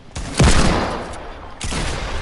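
Two heavy shotgun blasts in a first-person shooter video game, a loud booming shot followed by a second about a second later, each with a rumbling decay.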